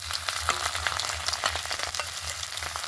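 Mashed boiled potatoes frying in hot oil, a dense, continuous close sizzle with soft stirring scrapes running throughout.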